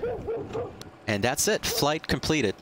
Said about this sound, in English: You can hear the dogs barking a lot more clearly now